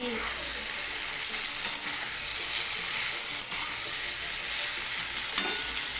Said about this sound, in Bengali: আমি এখন ফুলকপি আর আলুটা ভেজে নিচ্ছি